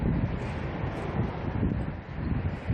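Wind buffeting a microphone outdoors on a Sunday evening in South Korea, a loud low rumbling whoosh that gusts and swells steadily throughout without speech.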